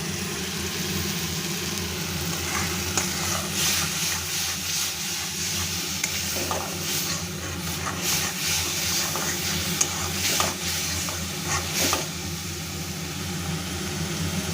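Masala fries in mustard oil for a rohu fish curry, with a steady close sizzle and bubbling under intermittent scraping stirs of a spoon in the pan.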